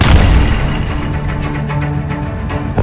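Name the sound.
Israeli air force bomb and missile explosions in Gaza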